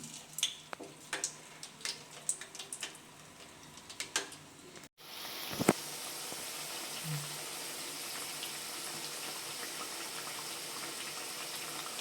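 Hand-flattened Maddur vada dough made with onion is dropped into hot frying oil; after a few light taps and clicks comes a sudden loud, steady sizzle that keeps going close and unbroken.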